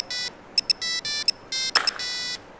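A phone ringtone plays as someone places a call, a loud, close electronic melody in short repeated bursts with brief gaps, heard alone without talk.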